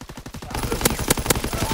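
A rapid burst of video game gunfire crackles in quick succession, loud and dense, with a few sharper shot peaks standing out near the end.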